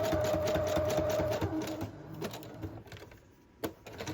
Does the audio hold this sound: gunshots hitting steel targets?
no